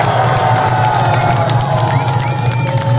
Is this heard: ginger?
no